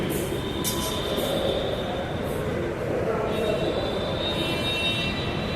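A Delhi Metro train rolls past with a continuous, loud rumble of wheels on track, overlaid by thin, steady high squealing tones that persist throughout.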